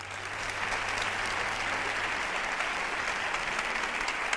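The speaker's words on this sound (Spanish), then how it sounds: "Así que fuerte el aplauso a Marc Lenders." An audience in the Nissan Cartuja auditorium gives loud, sustained applause, a dense and even wash of clapping that holds steady throughout.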